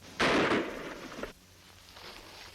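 A single sharp gunshot in a western TV episode rings out loudly, followed by a brief decaying echo and quiet background.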